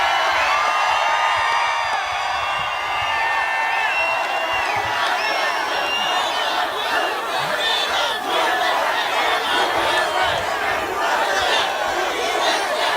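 A large crowd at a Donald Trump rally in Naples, Florida cheers and shouts continuously, a loud, dense roar of whoops and raised voices sustained throughout.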